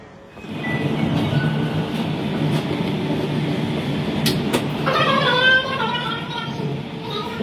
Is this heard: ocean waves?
no